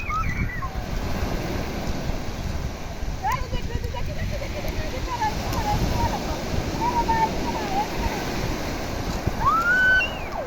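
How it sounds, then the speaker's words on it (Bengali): Sea waves of an incoming tide on a beach, a continuous wash of surf with some wind noise, while people call out and talk over it. "জোয়ার হচ্ছে, জোয়ার জোয়ার। চলে আসো, জল বাড়ছে দেখেছো?"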